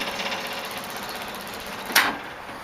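An electric fuel pump on a 1914 car hums steadily with a fast, even ticking pulse, close and fairly quiet, broken by one brief sharp clack near the end.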